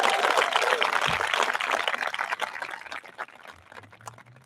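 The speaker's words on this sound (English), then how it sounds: "we give you a large round of applause for everything you have done for us" An audience applauds at a charter school graduation ceremony, a dense wash of clapping that starts full and gradually thins and fades, with a faint voice near the end.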